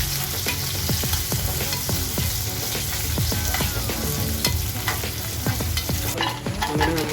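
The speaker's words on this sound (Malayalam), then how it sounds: "മുന്തിരി അല്പം ഇടുകയാണ്. അങ്ങനെ മുന്തിരി മൂത്ത് വരികയാണ്." Raisins sizzle and crackle steadily in hot fat in a pan while being stirred, with a close, continuous frying hiss and no talking.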